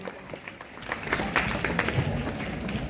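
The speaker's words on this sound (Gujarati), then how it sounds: "જોરદાર તાળીઓ એક વખત" Audience clapping at a Republic Day school celebration, a steady mid-level burst of applause lasting the whole moment with crowd noise underneath.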